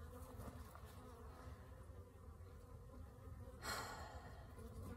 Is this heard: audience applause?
no